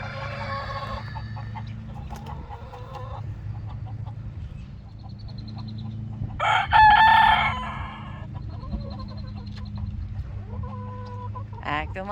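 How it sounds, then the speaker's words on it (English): A hen crows like a rooster on fresh farm pasture, one hoarse, strained crow rising clearly over a steady low rumble of wind or background noise, with faint clucks and bird calls scattered around it. "Acting like a darn rooster, crowing like a darn rooster."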